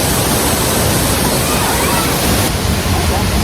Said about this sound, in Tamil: அப்படியே அந்த அருவியை பாருங்கள்.